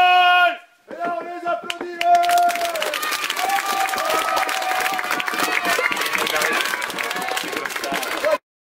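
A crowd breaks into dense, steady applause right after a few held musical tones, the clapping staying loud and even for several seconds before cutting off abruptly.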